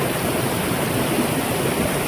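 Bruti waterfall near Islamabad pours in a steady, dense, close roar of rushing water with no breaks.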